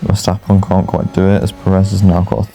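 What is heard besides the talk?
No everyday noises stand out.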